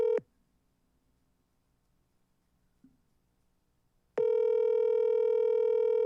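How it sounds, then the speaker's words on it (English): A telephone call tone sounds as a short steady beep, then silence with a faint click, then a long loud continuous tone returning near the end. "Why is his phone going like that?"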